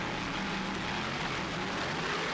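Helicopter flying over a national offshore powerboat race at Ocean City, Maryland, heard as a steady, dense broadband rotor and engine roar that holds unbroken for the whole stretch, with no voices over it.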